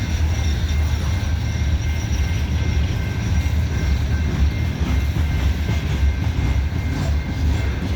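A loaded CSX coal train crawling up Parrs Ridge with one locomotive offline, a steady close rumble of rolling cars with a faint high squeal from dragging bearings or brakes throughout.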